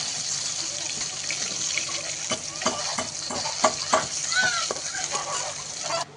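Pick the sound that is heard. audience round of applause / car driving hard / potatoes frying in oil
potatoes frying in oil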